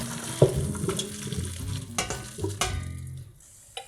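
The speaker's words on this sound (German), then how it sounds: "Gut miteinander vermischen und weiter brutzeln lassen" Broccoli and vegetables sizzle in a frying pan as they are stirred, a steady frying hiss broken by scraping utensil taps and clinks against the pan, close and without talk.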